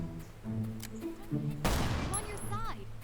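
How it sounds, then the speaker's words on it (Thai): A single sharp, loud burst of gunfire in the game Last Island of Survival cuts in midway, with a voice talking before and after it. "เมื่อกี้มันยังมีแบบเสียงปืนนะ อยู่แถวๆบ้านข้างหน้า"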